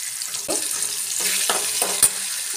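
Tomato and green chilli frying in a hot Maharashtrian tempering, a steady sizzle with a few scraping stirs of a spoon in the pan, close and fairly loud.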